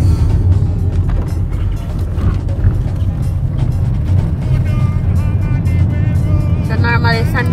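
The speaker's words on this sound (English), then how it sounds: "we're now driving about an hour" Car driving along a rural road in Jamaica between Chapelton Town in Clarendon and Free Town Sandy Bay, a steady low engine and road rumble running throughout with a voice speaking over it.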